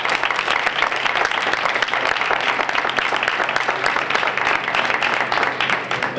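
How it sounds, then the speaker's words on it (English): An audience gives a continuous round of applause, steady and dense for the full stretch, many hands clapping at once in a hall. "Just give them a big round of applause for being here."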